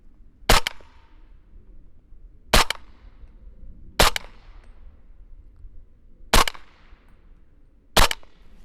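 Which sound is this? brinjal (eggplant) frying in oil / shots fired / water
shots fired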